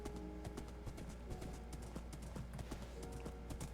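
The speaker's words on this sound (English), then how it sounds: "We're gonna take this horse." Horse hooves clip-clop in a steady, rapid rhythm in Minecraft, a continuous run of sharp close hoofbeats with a low steady hum beneath and no talking.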